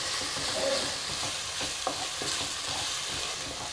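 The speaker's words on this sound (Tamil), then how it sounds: "இஞ்சி பேஸ்ட்டு இஞ்சி பூண்டு பேஸ்ட்டு வாசனை தீர மட்டும் நல்லா வதக்கணும்" Ginger garlic paste sautéing in a pan for a broiler chicken gravy, a steady close sizzle with scattered scraping stirs and small pops, no voices.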